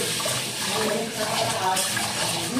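Water pouring and splashing steadily at close range, a dense continuous rushing wash.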